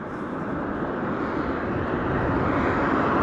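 A Kukirin G3 Pro electric scooter runs at full throttle in level 3 along a long straight road, a dense rushing roar of wind that slowly swells louder, steady and close, with no talking.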